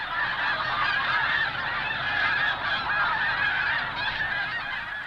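Migrating flocks of snow geese fly in over Sand Lake Refuge, South Dakota, in autumn, a dense, continuous chorus of honking calls from many birds filling the air without pause.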